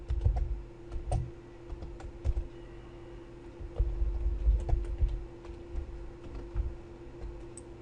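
Someone types Python code on a computer keyboard, producing close, irregular bursts of clicking keys with short pauses between runs and a faint steady hum underneath.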